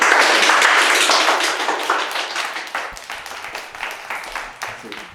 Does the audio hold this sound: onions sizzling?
no